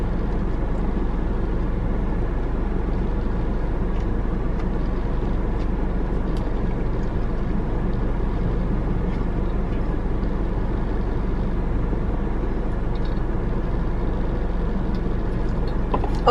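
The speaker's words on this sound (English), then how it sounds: "my car is old. She's like a 2010 Honda CR-V, so the AC is kind of loud" Air conditioning running inside an old 2010 Honda CR-V, a low, steady blowing hum with a constant rumbling undertone that continues evenly and unbroken, without talk.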